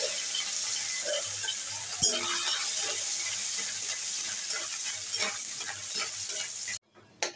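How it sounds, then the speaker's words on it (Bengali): Coconut fries in hot oil in a wok with a steady, loud sizzle and frequent scraping stirs, nearly unbroken until a brief hush near the end. "আমি নারকেলটা ভেজে নিচ্ছি।"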